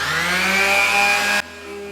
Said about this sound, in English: I'm actually going to use my sander.